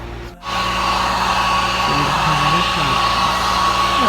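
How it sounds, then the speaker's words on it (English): A heat gun blows on resin coating a vase, kicking on after a brief pause and then holding a steady, loud, whooshing fan-and-air roar with a faint whine. "I am going to go ahead and heat up with the heat gun real quick."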